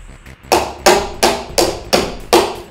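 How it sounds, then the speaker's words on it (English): The back of a screwdriver bangs a Technics 1200 turntable spindle in six sharp, evenly spaced metallic knocks, loud and close with nothing else over them. "you just take the back of your screwdriver and bang the spindle and pull up at the same time"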